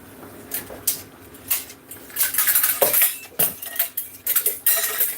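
A metal ladle clinks and scrapes against a pot of Jamaican cornmeal and carrot porridge, with a few sharp, close taps and knocks scattered irregularly over a quiet background.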